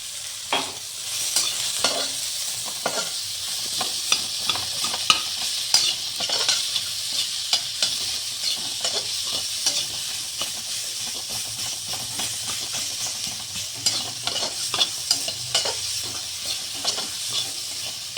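Chopped onions fry with salt and turmeric in a hot pan, giving a steady close sizzle and hiss with frequent scraping taps from a stirring spatula, continuing throughout without talk.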